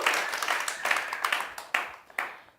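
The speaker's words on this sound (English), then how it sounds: "Applause for CJ." A small studio audience claps for a guest, with bursts of handclaps swelling and fading in uneven waves over a couple of seconds, fairly faint.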